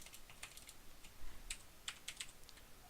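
Computer keyboard typing, as a search term is entered in a modded Minecraft game: short, light bursts of clicky keystrokes in quick uneven clusters, close and fairly quiet, with no talking.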